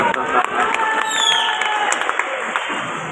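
Audience at a Hindi poetry recital (kavi sammelan) in Aligarh clapping and cheering, a continuous wash of applause and crowd noise with voices mixed in.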